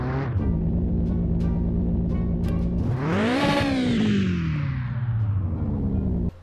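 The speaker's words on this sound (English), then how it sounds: "On the second start, the vehicle exhaust did not fall off." A car engine in the Mon Bazou video game, idling steadily and then revving up sharply before winding slowly back down, loud and close throughout with no voices.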